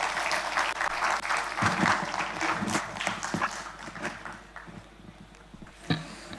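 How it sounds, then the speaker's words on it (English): A university panel audience applauds, a dense patter of many hands clapping that fades toward the end, with a brief louder burst near the close. "Please give them a big round of applause."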